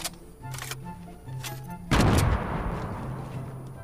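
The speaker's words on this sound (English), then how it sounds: "I just heard a boom bow shot" Explosive Boom Bow arrow shots in a video game: a few sharp cracks followed by a heavy booming blast that rolls out and decays, with a faint in-game background tone.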